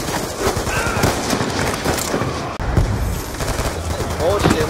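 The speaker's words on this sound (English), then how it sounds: "All I'm doing is freaking shooting these guys." Automatic gunfire in the Black Ops 2 video game: dense, continuous rapid shots throughout, with game sound effects layered over them.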